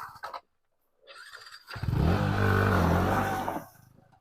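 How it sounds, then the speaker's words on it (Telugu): Motorcycle engine on a rough forest road, a brief clatter and pause before the engine swells into a loud, steady rumble that holds for a couple of seconds and then cuts off. "బైక్ కొంతవరకు అయితే వెళ్తుంది."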